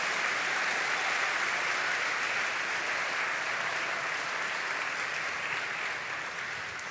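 A church congregation claps loudly and continuously, a dense, even wash of applause that holds steady throughout with only a slight easing toward the end.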